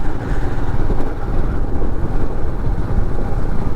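A motorcycle rides along a winding hill road between Guwahati and Nongjrong, its engine a steady low rumble with wind noise, loud and close throughout without pauses or talk.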